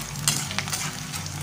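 Edible gum (dink) frying in hot oil for urad dal laddu, a steady close crackling sizzle with faint stirring, no voices.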